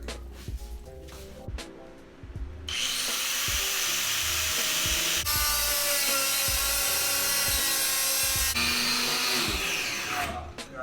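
Loud, continuous power-tool cutting through a car's rear bumper, a harsh high whine running steadily for about eight seconds after a few light knocks and handling sounds, with slight pitch shifts partway through.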